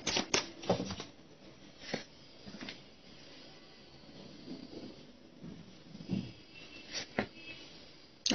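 Tarot-style energy cards being shuffled by hand, a soft papery riffling with a few sharper flicks and taps, close and fairly quiet with no talk over it.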